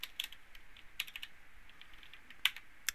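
Computer keyboard typing at a close distance, sparse and quiet clicks with a few sharper keystrokes, over a faint steady background hiss.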